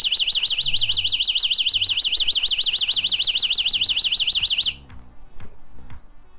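NEXTOOL 6-in-1 flashlight's built-in alarm wails loud and close, a shrill rapidly warbling siren tone repeating evenly for nearly five seconds before cutting off abruptly, leaving faint handling noise.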